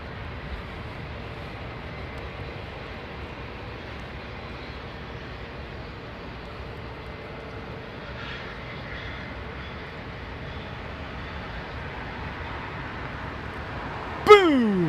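An airliner taking off from London Heathrow Airport gives a steady, distant engine roar that holds level, with a brief louder swell near the end.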